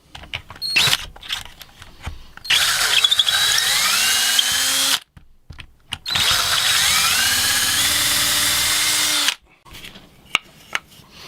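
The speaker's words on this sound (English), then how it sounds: "you can proceed in drilling out the two holes for the dowels" A power drill whirs in two long sustained bursts, close and loud, drilling dowel holes in wood through a homemade doweling jig, separated by short pauses with a few clicks and taps before, between and after.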